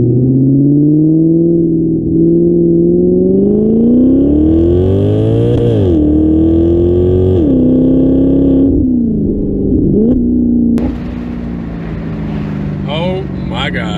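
Revs from a 2015 Maserati GranCabrio convertible blipped in neutral, rising and falling engine tones that swell loud and close, with a sharp bang near the end and a rougher tail.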